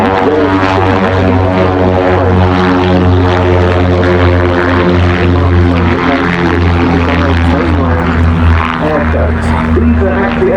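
Twin-engine aircraft at the Duxford airshow, a loud, steady droning engine roar with deep pulsing tones that fills the whole stretch, close and unbroken, with a voice faintly underneath.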